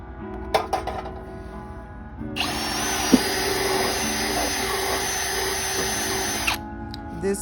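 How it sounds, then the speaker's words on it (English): A power drill bores holes for small garden stakes in a fairy garden project, a steady whining roar running for several seconds after short bursts and clatter, with a single sharp knock midway. "What my honey is doing is drilling the holes for the pieces that are pretty much stakes can go down in the holes"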